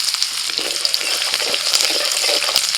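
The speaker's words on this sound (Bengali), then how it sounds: "প্রথমেই তেলের মধ্যে দিচ্ছি অল্প একটু পেঁয়াজ কুচি" Chopped onion frying in hot oil in a pan after pomfret fish was fried, a dense steady sizzle close up with faint stirring, no voices.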